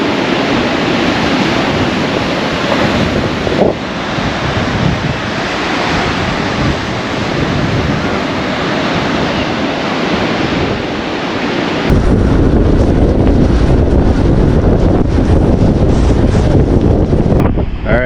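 Strong wind buffeting the microphone at a beach at low tide with rocks exposed, waves surging in a continuous loud roar throughout.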